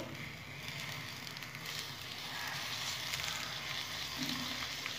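Mustard oil sizzling in a pressure cooker with eggplant, potatoes, tomato and green chilies, a soft, steady crackling hiss heard close but quietly, with no talking.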